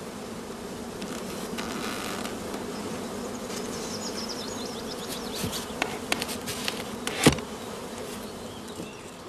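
Honeybees in an opened hive brood chamber during an inspection, a dense steady buzzing swarm close by with a few individual bees flying past louder, no talk.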